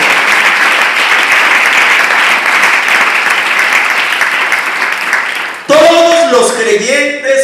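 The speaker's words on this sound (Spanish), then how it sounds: "le dé un fuerte aplauso al Señor" A church congregation gives loud, dense applause to the Lord at a worship service, a sustained wash of clapping that fills the room, then gives way abruptly to singing or musical tones near the end.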